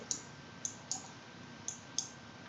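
Computer mouse clicks sound alone in a quiet room, six sharp ticks at uneven intervals, near and clear against a low hum.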